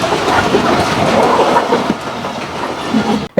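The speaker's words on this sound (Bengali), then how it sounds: "একটু পরেই ট্রেন আসবে। ট্রেন আইসা পড়লো" A train passes close by with a loud, steady rumble and rattling clatter from the wheels and cars that lasts throughout, then cuts off abruptly at the end.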